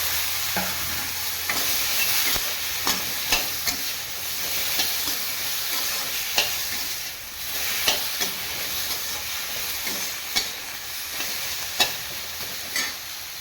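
Tomatoes sautéing in hot oil for elephant foot yam curry, a continuous bright sizzle punctuated by regular scraping stirs and light clinks of a spoon on the pan, near and unaccompanied by speech.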